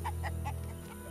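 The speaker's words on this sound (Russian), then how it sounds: "Курица." A chicken in the video game The Witcher gives three or four quick clucks over a steady low game hum, fairly loud and close.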